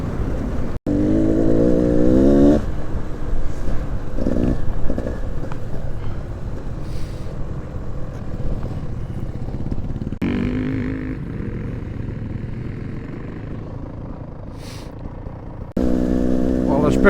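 A motorcycle rides along the road, its engine a steady close drone with wind noise, swelling with revs at the start and again at the end while a rider talks over it.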